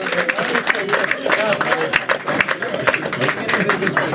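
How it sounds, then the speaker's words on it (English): Applause from a comedy open mic crowd at Casey's, dense close clapping with sharp individual claps standing out, mixed with some shouting voices. "Big round of applause."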